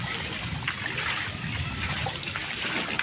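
Heavy rain during a Kalbaisakhi nor'wester storm pours down as a steady, close, broadband wash of water trickling and splattering, constant in level with no pauses and no talk.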